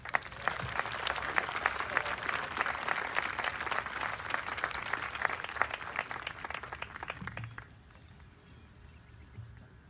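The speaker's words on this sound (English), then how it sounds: "Please give the awardees a round of applause." Applause from a large audience at an Army Airborne graduation, dense steady clapping that carries on for several seconds before dying away into quiet room noise.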